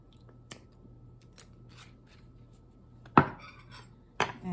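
A spoon stirs yarrow tincture into a cup of herbal tea, giving a few sharp, close metallic clinks against the cup, spaced out with quiet gaps and two louder knocks near the end.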